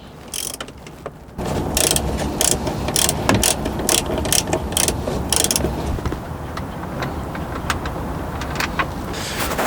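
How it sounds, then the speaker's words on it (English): Ratchet wrench with a 10mm socket and extension turning out console screws in a 2015-2017 Lexus NX, rapid clicking pawl bursts in uneven runs, close and fairly loud, with no voices. "We'll use a 10mm socket with an extension for these."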